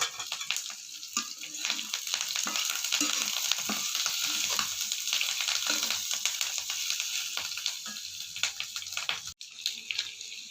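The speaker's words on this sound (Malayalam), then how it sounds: "അപ്പോൾ നമുക്കിത് അടിപൊളിയായിട്ട് വറുത്തെടുക്കാം. കുറച്ച് കറിവേപ്പിലയും കൂടെ ചേർത്ത് കൊടുക്കാം." Chicken frying with curry leaves in a pan, a continuous close sizzle with crackles and stirring scrapes, fairly loud and uninterrupted apart from a brief gap near the end.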